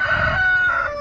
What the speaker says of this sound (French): Ah, des poules.